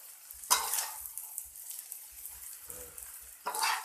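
Rice with fermented pork sausage stir-fried in a pan, with a low sizzle and a few sharp scraping strikes of the spatula at the start and near the end.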